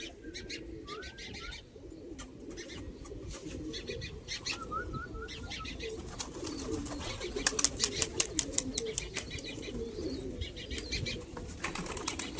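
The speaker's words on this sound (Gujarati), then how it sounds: "જોઈ લ્યો કબૂતર ઉડ્યા તઈ" Pigeons in an outdoor setting, with soft calls and a quick run of rapid wing flaps as birds take off.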